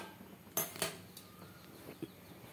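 A metal wok is set down in a home kitchen, giving two quick close clanks about a quarter second apart, followed by a couple of softer knocks against quiet background.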